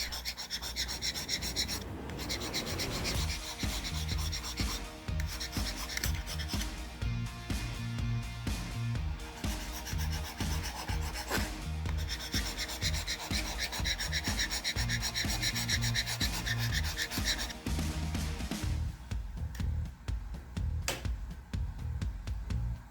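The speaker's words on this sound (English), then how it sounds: "I even tried scratching it with a Stacko knife, as you can see right there." A knife blade scratching a textured purple magnetic iPhone 16 Pro Max case, heard as continuous close rasping and rubbing strokes that carry on steadily for over twenty seconds with no talking.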